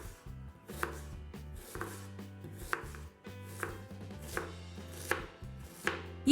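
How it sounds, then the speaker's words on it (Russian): An onion is diced into small cubes with a knife: a steady run of crisp blade strikes on a cutting board, close and distinct, over soft background music. "Лук нарезаем на небольшие кубики."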